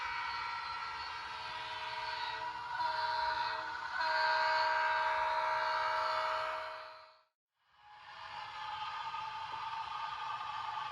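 A model railroad SD60 diesel locomotive, a repainted Proto 2000 with an ESU sound decoder and small speakers, rumbles along a layout. Its sustained horn tone sounds quietly through the speakers, dips briefly to silence, then resumes alone with no talking.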